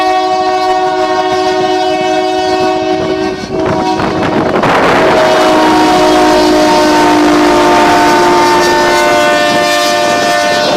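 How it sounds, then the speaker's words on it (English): Union Pacific locomotive 1474 pulling a short train past an outdoor crossing in Racine, horn chords sounding loud and close over rumbling wheels, with the roar swelling midway as it passes. "Here comes the train."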